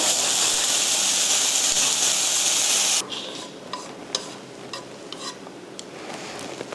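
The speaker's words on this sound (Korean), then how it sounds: "이렇게 고기를 한번 볶아서 미리 꺼내 놓도록 할게요" Meat stir-fries in a pot with a loud, dense sizzle for about three seconds, then quieter crackling and scattered clinks of stirring follow.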